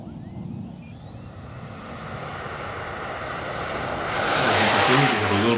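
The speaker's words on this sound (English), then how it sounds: "It takes off just fine with the wings back." A Freewing 64mm F-14 Tomcat RC jet with its wings swept back takes off, its electric ducted fan building from a steady whine to a louder, rising roar as it pulls away.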